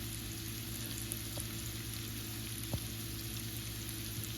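Potatoes frying in butter in a pan make a faint, steady crackling sizzle, with an occasional tiny pop standing out once or twice, heard close and alone.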